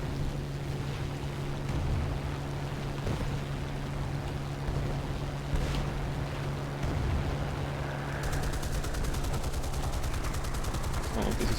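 Aircraft machine-gun fire rattles in War Thunder, a steady rumbling engine drone with dense rapid bursts of fire throughout and a buzzing rattle in the final seconds.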